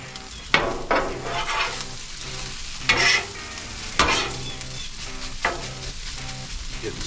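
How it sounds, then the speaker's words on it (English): Eggs get stirred into rice on a Blackstone griddle, steady close frying sizzle broken by repeated scraping spatula strokes about once a second, loud and without talk. "Getting stirred into the rice."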